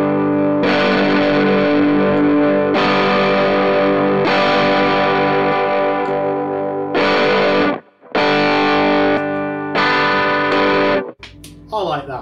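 Electric guitar runs through a Hubcap John Rangemaster treble booster into an amp, playing loud, sustained overdriven chords and phrases in several bursts with short pauses between them.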